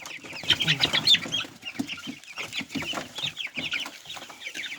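A flock of hybrid chickens clucks busily while being fed a mixed feed, a dense, close chorus of overlapping clucks and squawks that continues without pause.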